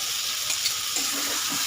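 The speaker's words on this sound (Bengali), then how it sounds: "এখানে আমি ভেজে রাখা আলুটা দিয়ে দিচ্ছি।" Fried potatoes tossed into spiced masala in a pan give a steady, soft frying hiss with faint stirring scrapes, heard alone without talk.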